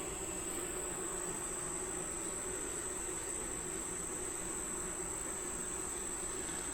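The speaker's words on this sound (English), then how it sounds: "Now I see lots of bees." Honeybees in an open beehive produce a steady, dense hum with a high whine layered over it, constant and close throughout, with no speech.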